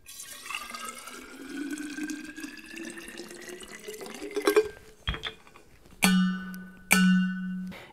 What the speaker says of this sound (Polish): Wystarczy wlać troszkę wody.